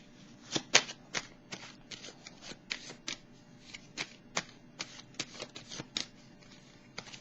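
Tarot cards are shuffled and drawn, giving a quick irregular run of crisp riffling snaps and slaps, close and fairly soft, with no talking.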